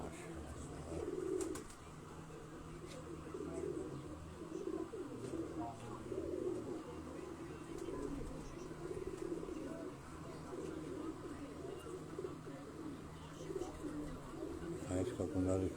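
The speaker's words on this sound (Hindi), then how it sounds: "ये उनकी एक बड़ी फेवरेट ब्रीड थी उस्ताद इखलाक अहमद ख़ान साहब के घर की दुमचीर कबूतर" A Dumcheer pigeon coos in low repeated throaty phrases near at hand, while people talk quietly in the background.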